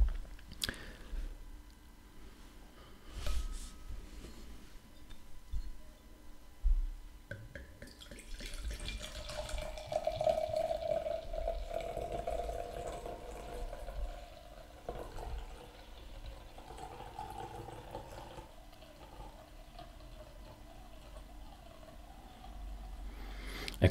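Cerasella, an Italian spontaneously fermented beer, is poured into a freshly rinsed glass until the sediment starts to lift. A soft, steady hiss of liquid rises and falls over a quiet background, with no voices.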